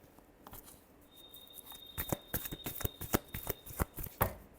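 Tarot cards are shuffled close up in a quick run of soft riffling flutters and taps that grow louder and denser toward the end, with no talking.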